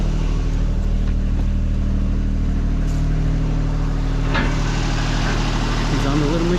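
Small engine of a mini skid steer loader running at a steady, loud drone close by, with a rise in revving near the end.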